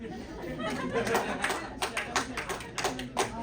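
A few audience members at a comedy show clap sparsely amid crowd chatter, scattered uneven claps that come and go over a murmuring room.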